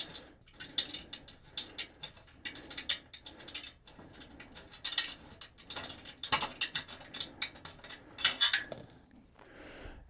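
A ratchet wrench loosens a bolt on the pedal mount of a Fanatec ClubSport GT cockpit, giving rapid bursts of close metallic clicking in an irregular rhythm across the whole stretch, with no talking.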